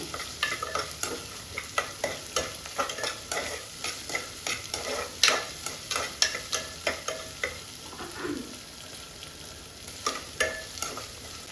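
Lentil paste frying in a pan for radish sambar, with repeated spoon stirring scrapes and a steady soft sizzle running throughout, close and alone with no talking.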